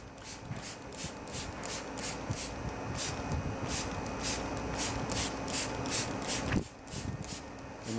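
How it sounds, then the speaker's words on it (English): Rapid, repeated hissing bursts of a spray bottle applying M20 patina solution onto bronze, in a quick rhythm over a rough, rubbing background, briefly pausing near the end. "So I'm going to darken it up with some M20. Just going to spray it on there."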